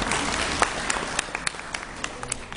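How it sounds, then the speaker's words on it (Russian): Audience applause at an art club meeting with a distinguished painter, a steady dense wash of clapping with a few sharper individual claps standing out, moderately loud and continuous. "Аплодисменты!"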